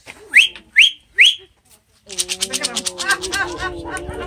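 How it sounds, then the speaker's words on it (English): Three sharp, evenly spaced rising whistles call farm animals to feed, clear and close, followed by a jumble of voices talking over one another. "whenever I went out to feed them, I would give them 3 sharp whistles and they'd come"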